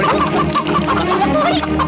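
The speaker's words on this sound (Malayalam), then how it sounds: "ഇയാൾ നമ്മുടെ കോഴികളെ പിടിക്കുന്നു" Chickens cluck and squawk loudly and continuously up close, agitated as they are being caught, with a dense overlapping run of calls.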